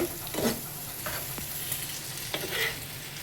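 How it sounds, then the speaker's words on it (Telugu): Boiled potato pieces fry in a pan on a stove while a spatula stirs them, giving a steady close sizzle broken by a few sharp scrapes and clacks. "తర్వాత ఈ పొటాటోస్ వేస్తుందండి. బాయిల్ చేసి పీసెస్ చేసినాయి అనమాట."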